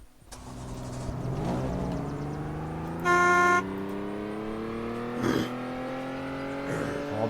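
In the Unturned video game, a car engine drones steadily and rises in pitch as it revs up. A loud car horn honks once for about half a second partway through, and brief clunks are heard later, with no voices.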